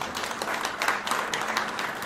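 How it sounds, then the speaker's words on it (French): Audience at an entrepreneurship and networking gala claps in a dense, moderately loud burst of applause lasting a couple of seconds, with no clear talk over it. "Pas des applaudissements timides."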